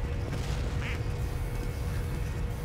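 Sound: duck quacks in video game Team Fortress 2

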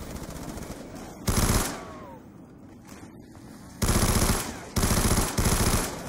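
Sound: gunfire in the video game Call of Duty Mob of the Dead

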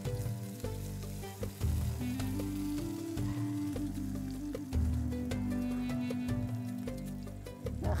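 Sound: onion and garlic frying in a hot pan

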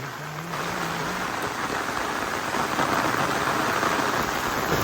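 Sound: rain falling

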